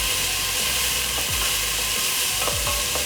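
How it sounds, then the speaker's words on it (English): Onions fry in a pan with a steady, loud sizzle and occasional stirring scrapes across the pan, with no talking. "So we got our onions cooking."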